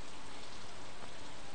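Steady rain patters down in the Stardew Valley video game, a soft, even hiss of falling drops with no other sounds.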